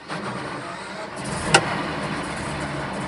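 A tank recovery vehicle's engine runs close by in a steady mid-pitched idle after starting, with a brief sharp click partway through.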